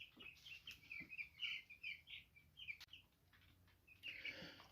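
Broiler chicks in a brooder giving high, thin peeps and chirps in quick scattered bursts, fairly faint, with soft rustling beneath.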